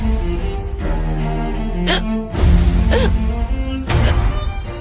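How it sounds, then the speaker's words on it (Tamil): A man in a Tamil TV serial scene hiccups, with sharp sudden catches of breath at a steady spacing under a soft music bed. No words are spoken during them. "விக்கல் வந்துட்டு இருக்கு."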